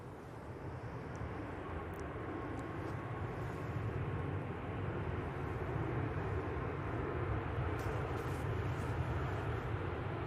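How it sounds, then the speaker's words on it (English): Steady jet engine rumble from Boeing Dreamliner airliners moving at Manchester Airport, a continuous moderate roar heard from a distance with faint outdoor ambience and no talking. "Got two Dreamliner coming out."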